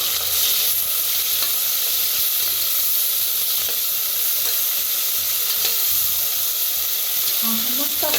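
Crushed chilli-garlic thecha roasting in a pan with ghee, a loud continuous sizzle and hiss with occasional stirring scrapes throughout.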